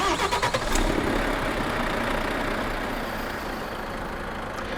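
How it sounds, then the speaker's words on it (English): Renault Trucks T heard from outside in Euro Truck Simulator 2: a starter cranks in short rapid pulses for under a second, then the engine catches into a steady, loud low idle rumble that holds to the end. "let me show you the engine start sound from the outside"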